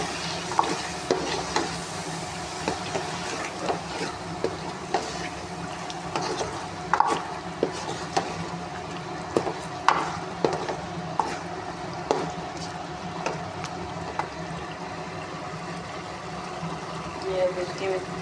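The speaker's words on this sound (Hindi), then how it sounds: "ये इसकी 4-5 मिनट जो है ना अच्छी तरह से चिकन की बुनाई करूँगी।" Chicken sautéed with masala, tomato and spinach in a pan, with a constant soft sizzle and repeated scraping knocks of a spoon as it is stirred, close, while someone talks throughout.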